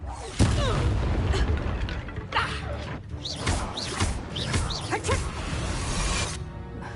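Confringo blasting spell exploding in Hogwarts Legacy, with a sharp boom near the start followed by a busy rumble of further blasts, clattering effects and whooshing spell sounds throughout.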